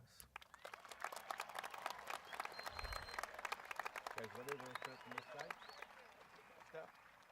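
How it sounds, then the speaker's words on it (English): A graduation audience at a high school commencement claps in a dense, steady round of applause, with a voice talking over the clapping for part of it. "Ladies and gentlemen, one more round of applause."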